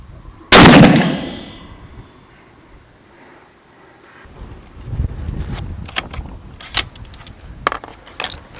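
A single loud, close rifle shot from a Savage 220 being sighted in, a sharp crack with a decaying ring, followed by quieter clicks and rustling handling noises.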